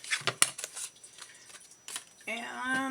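Small scissors cutting paper for a handmade fall card, heard as a series of close, crisp snips and paper rustles, followed by a brief spoken word or hum near the end.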